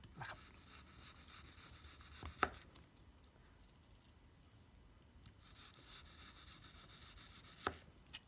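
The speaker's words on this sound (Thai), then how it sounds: "แล้วทีนี้มาดูถ้าเราหั่นหนา" A knife cuts thick slices of meat on a board, giving two faint, sharp chops several seconds apart with quiet stretches between them and no talking.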